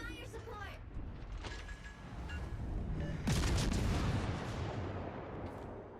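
Warship shells fire and strike an island in World of Warships Legends, giving muffled booms and rumbling impacts, with the heaviest burst midway, while someone talks over the battle.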